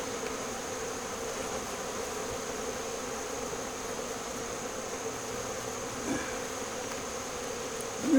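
Honeybees buzz continuously around hives just moved to a new bee yard, a steady, dense drone of many insects close by at moderate loudness, without any speech.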